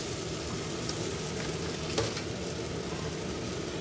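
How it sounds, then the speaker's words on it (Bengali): Spice paste sizzles and fries steadily in a pan while being sautéed for koi fish curry, a dense continuous crackle heard up close with a faint stir near the middle. "মশলাটা দেওয়ার পরে আমি একটু মশলাটা কষিয়ে নিচ্ছি"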